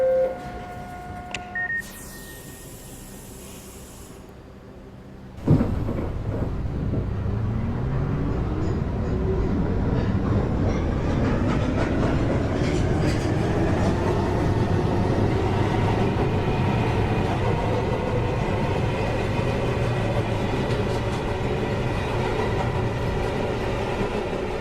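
An uptown New York subway 1 local train pulls away after a run of chimes and door beeps, its motor whine climbing steadily in pitch beneath a loud, continuous rumble of wheels on rails heard from inside the car.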